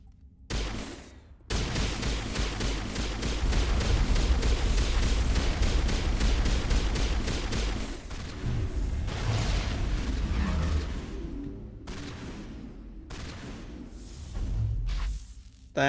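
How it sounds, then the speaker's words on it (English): Assault rifle gunfire in the game Mass Effect, long sustained automatic bursts with rapid repeated cracks, broken by brief pauses and shorter bursts, loud and close. "I should not be using my assault rifle, actually."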